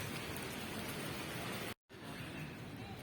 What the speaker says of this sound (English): Lots of rain and it's ruined my visit to this place